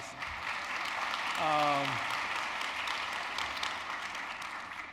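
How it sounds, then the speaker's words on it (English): An audience at an honors college induction and recognition ceremony applauds steadily for the inaugural dean, broadband clapping filling the clip, with a brief voice speaking over it midway. "And let's give him a round of applause."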